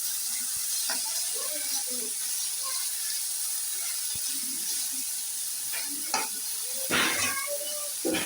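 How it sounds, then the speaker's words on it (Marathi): Dill greens sautéed in hot oil give a continuous soft sizzle and hiss, with intermittent stirring scrapes and a few louder spatters near the end. "हा थोडासा मी तेलात परतून घेते।"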